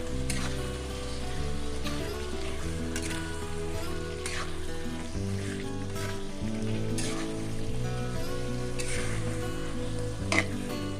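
Chopped onions and lightly fried capsicum sizzle steadily in a pan for a paneer masala, a continuous frying hiss under prominent background music with no talk.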